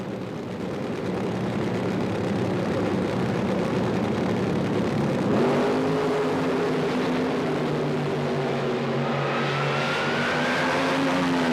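Camaro-bodied fuel funny cars launch from a standing start at a drag strip, their engines roaring loudly and continuously, with the pitch climbing sharply as they accelerate away.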